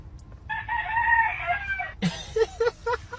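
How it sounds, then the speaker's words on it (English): A rooster crows once in a long sustained call, followed by a quick series of loud clucks and squawks from the same bird, close and clear with no talking. "You got roosters in the back?"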